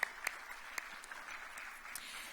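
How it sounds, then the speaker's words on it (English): A startup pitch event audience in Beirut claps steadily, a dense, fairly faint spatter of applause with a few sharper individual claps standing out near the start. "So huge round of applause."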